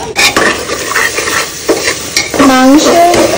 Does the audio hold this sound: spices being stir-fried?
yes